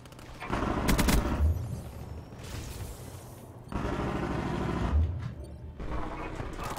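Call of Duty: Black Ops 3 gunfire comes in dense automatic bursts, loud and close, with sharp cracks, heavy low thumps and mechanical clatter in two main volleys separated by a brief lull.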